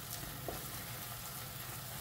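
Fish eggs fry in a pan while being stirred constantly, a steady close sizzle and crackle running without pause and with no talking.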